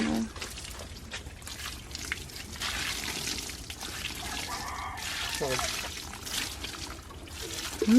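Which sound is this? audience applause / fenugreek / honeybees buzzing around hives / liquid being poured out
liquid being poured out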